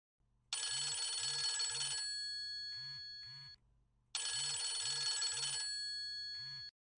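A telephone rings with a bright electronic trill in two long bursts separated by a short pause, clear and isolated against an otherwise quiet background.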